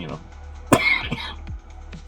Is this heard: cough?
yes